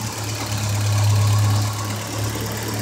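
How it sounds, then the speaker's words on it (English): A car's small 2.0-liter engine runs steadily at idle, a low, even hum that swells a little in the middle, close up and with no talk over it. "now let's check it out, the engine working and how it looks like."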